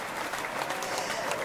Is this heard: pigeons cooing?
no